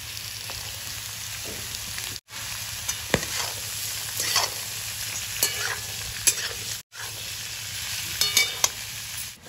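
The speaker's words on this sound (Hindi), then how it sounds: "अब इसमें कटी हुई सतपुतिया डालेंगे।" Chopped sponge gourd (satputiya) tossed into a hot pan of sautéed seasoning over low to medium heat, producing a constant close sizzle with intermittent stirring scrapes and light clinks, cut by two brief dropouts.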